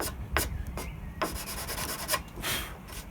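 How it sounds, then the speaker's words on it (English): Sandpaper wrapped around a block rubbed along the edge of a chipboard kitchen worktop, cleaning off glue residue: short raspy strokes, about six or seven in irregular rhythm, close and fairly quiet. "just with a bit of sandpaper around the block, I can take all the glue residue and the bits of fluffy chipboard off there"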